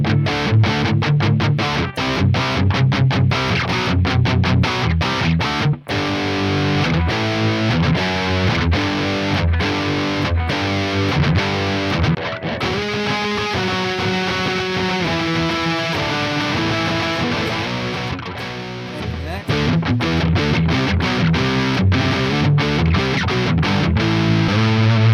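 A Heritage H-150 Ascent electric guitar plays through ultra high gain distortion. Thick, saturated chords and chugging palm-muted riffs come loud and continuous, with brief stops between phrases.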